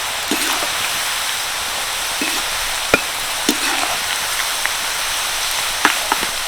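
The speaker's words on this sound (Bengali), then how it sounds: "আর দেখতে পেলেন তেলে দেওয়ার সঙ্গে সঙ্গে কি সুন্দর বাবলস ভর্তি হয়ে গেল" Shredded potatoes fry in plenty of hot oil, a dense, steady bubbling hiss with occasional soft pops and clicks, close and continuous with no talk.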